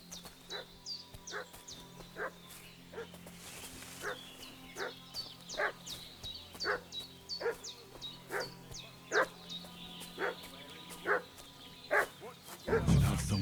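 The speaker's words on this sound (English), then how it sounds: "What's that dog making such a fuss about?" A dog in the video game Kingdom Come: Deliverance II barks repeatedly and fusses in steady bursts, clear and fairly close, over a quiet ambient game background.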